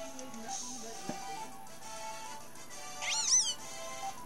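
A cat Pokémon meows in Pokémon Moon, one short rising-falling warbled meow over a soft game music bed, with a faint click earlier and no voices.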